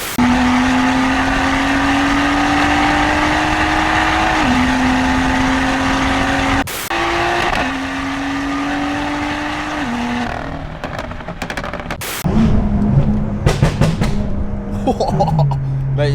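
A 450HP BMW M2 engine drones steadily while driving, heard from inside the car, with gear changes shifting the pitch, a few sharp knocks, then a louder burst of acceleration toward the end, with occasional voices underneath.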